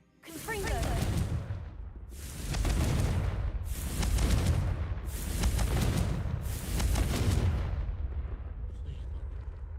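Repeated booming blasts from a Confringo blasting spell in a PlayStation video game, four or five loud, broad explosions roughly every two seconds, each rolling into a sustained rumble, with a voice faintly present beneath.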